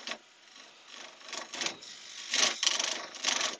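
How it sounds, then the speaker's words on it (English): A hand scraper works the bottom of a wooden bowl turning on a lathe, giving repeated rasping scrapes in short bursts, close and fairly quiet, with no talk. "So I'm just going to clean the bottom of that up with a scraper"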